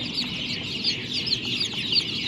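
Young H'mông chicks chirp in high, thin peeps, a steady busy chorus of many small birds close by with no talking.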